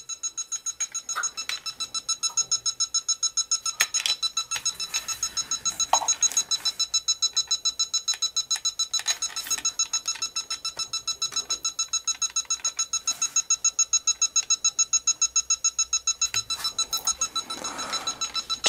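Electronic refrigerant leak detector checking a heat pump's outdoor unit, giving a steady run of rapid, evenly spaced beeps that continue throughout at moderate level, with only faint background noise.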